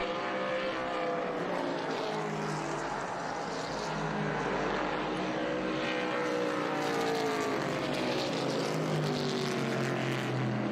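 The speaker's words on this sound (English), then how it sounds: "it was just a great sound to hear those V8 engines coming through" V8 race cars of a historic touring class on the Laguna Seca raceway, a loud sustained engine roar swelling and fading as a pack of several cars passes, with no talk over it.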